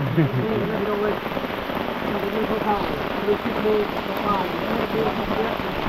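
Heavy rain pours down steadily in a forest, a dense close hiss on leaves and ground, with people talking under it.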